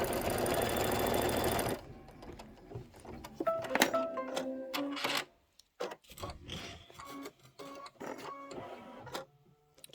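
An embroidery machine stitches a tack-down line on a dimensional badge embellishment, starting with a loud, steady whirring run of stitching, then breaking into shorter bursts with clicks and handling noises.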